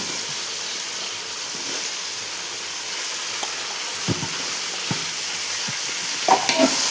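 Three green chillies sautéing in a pan for crab gravy: a steady, loud hissing sizzle runs throughout, with a few faint spatula taps and a slightly louder clatter at the very end.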